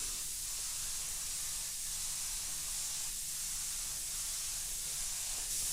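An airbrush sprays light coats of Auto Air Colors 4200 series transparent paint, giving a continuous soft hiss close by with no talk.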